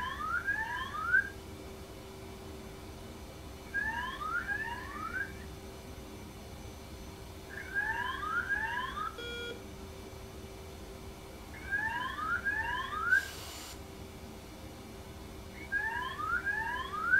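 A cockpit warning alarm from a DCS F/A-18C flight simulator, tied to the altimeter, sounds as a repeating two-tone electronic warble, five bursts at steady intervals about four seconds apart over a low hum, with no voices.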